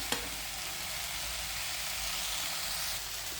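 Sliced okra fries in a pan with a steady, close sizzle of hot oil that holds evenly throughout.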